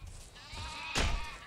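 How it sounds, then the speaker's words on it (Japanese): Sheep bleat in the video game Overlord: Dark Legend, a single clear bleat rising over a steady game background, with no talk. "ここは羊が大量にいて"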